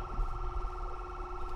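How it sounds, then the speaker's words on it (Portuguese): A wailing police siren in the video game GTA 5 holds a steady warbling tone over continuous low engine rumble, sounding synthetic and loud throughout. "ligar a sirene aqui"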